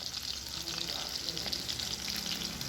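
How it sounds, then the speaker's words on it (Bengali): Fish frying in hot oil for a home-cooked Bengali meal, a steady close sizzle and crackle filling the short clip on its own, fairly quiet overall. "আর এদিকে গরম গরম মাছ ভাজা।"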